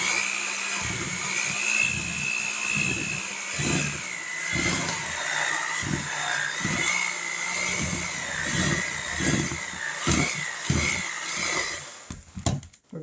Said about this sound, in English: I think I'm about ready for a new mixer.